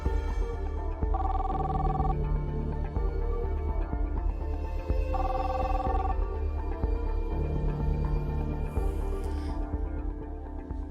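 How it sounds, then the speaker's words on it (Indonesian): A telephone rings out in a call back, with three evenly spaced electronic ring bursts of about a second each over a steady background hum and no one speaking. "Kalau kamu ragu, Dion, coba kamu telepon balik."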